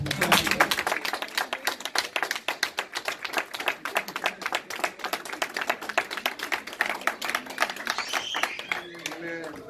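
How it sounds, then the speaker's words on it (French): A church congregation claps in praise during a French-language service, a fast, loud run of rhythmic hand claps close by that thins toward the end as a voice begins to speak. "Applaudissez notre Seigneur"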